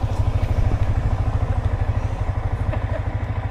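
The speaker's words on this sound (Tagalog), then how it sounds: "Ang bagong motor." A new 1000cc big bike motorcycle engine idles close up with a steady, rapid thumping pulse and a loud, even rumble throughout, no voices.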